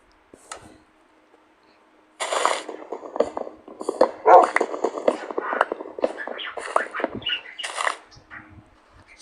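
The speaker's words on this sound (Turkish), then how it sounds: "Gel benim köpeğim." A Minecraft dog barks and yelps in short, bright bursts after a brief quiet start, the sounds clipped and game-like, continuing steadily for several seconds.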